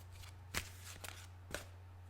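A wide deck of cards is shuffled in a few quick riffles, three soft bursts of flicking paper about a second apart, faint over a low steady hum.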